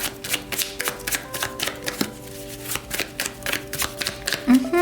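Tarot cards are shuffled in quick, steady riffles, a dense run of crisp flicking and slapping taps close to the mic, with someone speaking softly over them.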